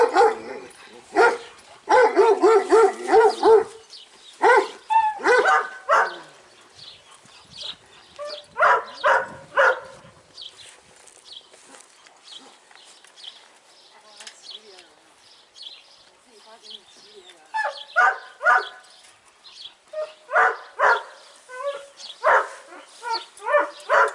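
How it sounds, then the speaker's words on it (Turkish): Caged Kangal dogs bark in loud repeated bursts, several barks clustered together, then quiet gaps before fresh rounds of barking resume close by. "Kafesteki köpeklerimize bakıyoruz şimdi."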